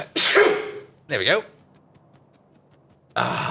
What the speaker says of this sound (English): there's a sneeze coming up